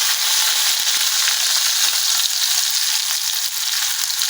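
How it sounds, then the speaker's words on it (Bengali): Garlic, onion and green chillies frying in oil give a steady, dense sizzle that stays loud and even throughout, with no voices over it. "এখন পেঁয়াজটা, লঙ্কাটা, রসুনটা আরও একটু ভালো করে তেলের মধ্যে ভেজে নিচ্ছি"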